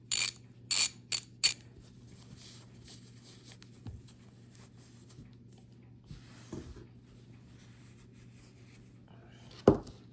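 A restored, formerly rusty ratchet clicking in a few quick loud bursts, then a quiet stretch with faint handling noises and one sharp click near the end, all close up.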